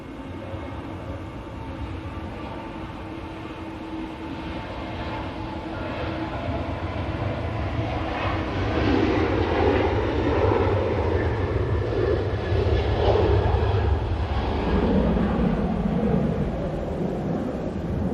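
A Boeing 737 jet aircraft rumbles steadily and loudly, its broad roar swelling gradually and holding strong, heard from fairly near with no voices.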